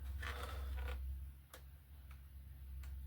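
A blade cuts balsa top sheeting on a model glider wing along a ruler, a close scratchy draw followed by a few sharp ticks, faint and alone with no voices.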